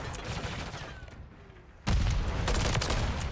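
Assault rifle fire in a shooter video game: after a quieter stretch of background game ambience, a loud, dense burst of rapid automatic shots breaks in and keeps going to the end.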